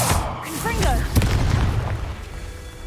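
In the Hogwarts Legacy video game, a Confringo blasting spell sets off a deep booming explosion with a crackling burst, and a voice speaks just before it.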